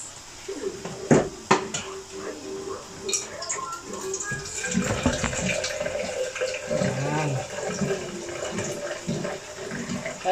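Water running and pouring into a cooking pot for chicken tinola, a steady splashing wash building from the middle of the clip, with some clinks of pots and a voice speaking early on.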